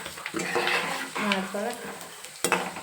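Curry leaves and dried red chillies hit hot oil for a ginger chutney, giving a close, soft sizzle broken by stirring scrapes and a sharp clink of utensils, with a brief voice in the middle.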